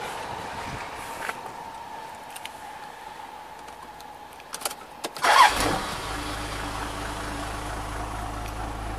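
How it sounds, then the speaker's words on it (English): Cold start of an old truck engine: quiet clicks and rattles, then the starter cranks briefly and the engine catches near mid-clip, settling into a steady low idle close by. "Cold start. See if this heap starts."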